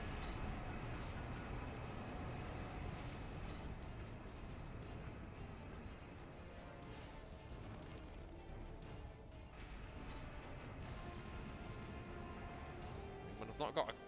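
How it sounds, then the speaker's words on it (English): A train rumbles continuously in Warhammer 40k: Space Marine, a steady mechanical rolling drone at moderate level with a few sharp clanks near the end. "See if we can stop the train."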